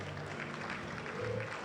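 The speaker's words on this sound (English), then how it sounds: "A round of applause," Applause from an audience at a formal evening address, a steady patter of clapping at moderate distance with faint voices underneath.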